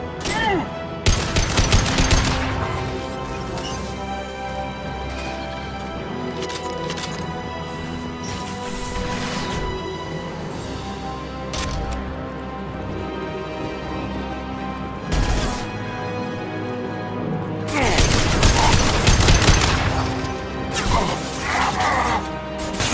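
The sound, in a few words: gunfire in a video game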